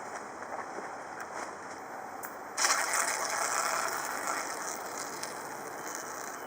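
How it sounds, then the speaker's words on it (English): A Sabre Red Maximum Strength pepper spray canister discharging, a faint background hiss that jumps to a louder, steady pressurized spray partway through and holds for several seconds. "got quite a lot of spray out of that can"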